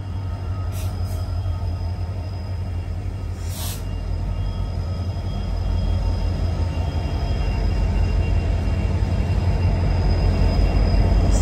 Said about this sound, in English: What is so fascinating to look at a train coming into the station?